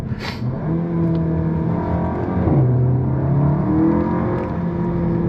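Seat Leon Cupra 280 engine accelerating hard under load, a loud steady in-car drone whose pitch climbs, dips briefly at a gearshift, then rises again, with no talking.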